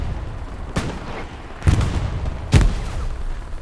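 Grenade blasts and gunfire from Hell Let Loose on the Foy night map: three sharp, loud bangs spaced about a second apart, the last two heavier and booming, over a low battlefield rumble.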